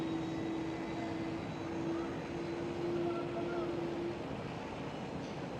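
An Airbus A330 on the Kaagbaan runway at Schiphol gives off a steady, distant engine roar with a faint tonal whine, holding fairly even throughout with no talk over it.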